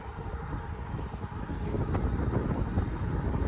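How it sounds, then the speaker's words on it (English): Strong wind of about 30 miles an hour, cold, buffets a microphone outdoors during an all-wheel-drive ebike ride, making a steady, loud, low rumble that thickens after the first second and a half. "This wind is about 30 miles an hour."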